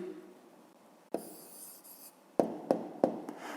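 Handwritten answer going down on paper with a pen, a soft scratchy stroke followed by several quick, distinct taps and scratches close to the listener, no talking.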